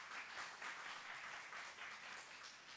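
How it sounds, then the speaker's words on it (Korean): Congregation in a Korean church service gives soft, scattered applause, a faint, steady patter of clapping from a distance with no voices over it. "박수는 한꺼번에 쳐주세요."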